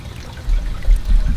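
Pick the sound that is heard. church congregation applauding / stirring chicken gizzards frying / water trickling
water trickling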